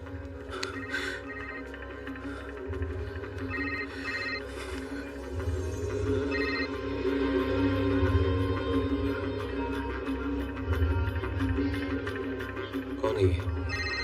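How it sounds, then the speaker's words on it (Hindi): A telephone rings in bursts at night in a Hindi film scene, fairly faint and in the background, beneath a continuous musical or ambient drone, with people talking at times. "कौन इतनी रात को फोन कर रहा है तुम्हें?"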